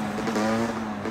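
A motorcycle rides past on its back wheel in a wheelie, giving a brief, loud, steady engine drone with a strong tone that fills the whole short moment.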